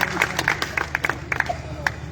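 An audience at a Ramlila ground poetry recital in Chhatarpur claps in scattered, uneven bursts, mixed with crowd noise and a voice talking over it.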